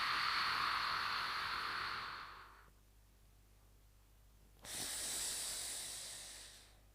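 Two long, breathy exhales during a stretching exercise, soft and close with a pause between them, no talk.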